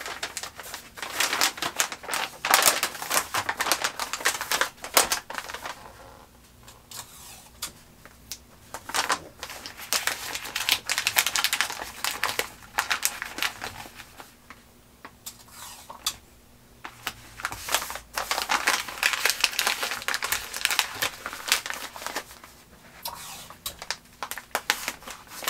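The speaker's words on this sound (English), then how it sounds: "For good measure, I'm going to give it a double wrapping in the freezer paper." Freezer paper being wrapped twice around a chocolate truffle blackberry cheesecake, with continuous close crinkling, rustling and folding that swells and eases in bursts over about half a minute.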